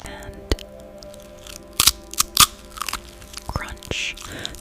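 Dried jackfruit chips, crisp and grease-free after factory dehydration, bitten with a few sharp crunches followed by chewing, close and fairly loud over faint background noise.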